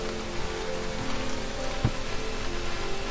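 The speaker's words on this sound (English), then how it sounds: "I'm just seeing rain come down here through this" Rain in the video game Starbound makes a constant hiss of soft patter, alone and even throughout, with one brief tap near the middle.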